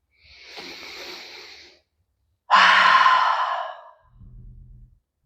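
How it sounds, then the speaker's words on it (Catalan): Deep breathing during a Pilates class: a long breath drawn in through the nose, then a louder, fuller exhale out through the mouth, followed by a soft low rustle. "Fem una respiració profunda, inspirem pel nas i expirem per la boca."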